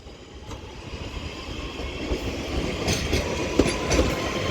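A double Class 323 electric train rumbles steadily close by at Manchester Piccadilly station, its wheels giving a few rhythmic clicks over the rail joints under a continuous mechanical hum.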